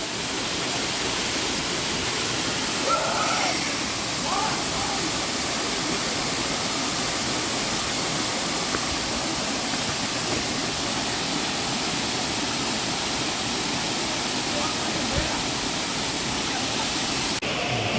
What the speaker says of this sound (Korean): 뭐, 폭포가 아주 멋지네요, 여기서.